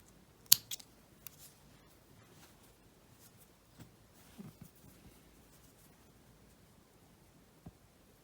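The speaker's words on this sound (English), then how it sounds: "so I can just trim those off now" Scissors snip the yarn tails on a crochet scrap blanket, a few faint, sharp cuts spread out against a quiet room.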